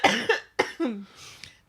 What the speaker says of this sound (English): There may be more coughing though.